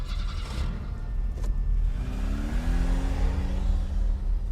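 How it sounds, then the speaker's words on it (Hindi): A car engine starts and revs briefly, then the car pulls away with a rising, whirring drone. The sound is moderately quiet and there is no talk. "लिपस्की ने इंजन स्टार्ट किया और गाड़ी आगे बढ़ाते हुए कहा"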